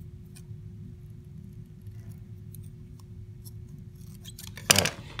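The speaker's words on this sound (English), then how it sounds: "I need some sharper scissors. Maybe I'll find some online" Scissors cut material while a pottery cutoff wire is being made: a quiet low hum runs throughout, then a sharp, close snip and rustle burst out near the end.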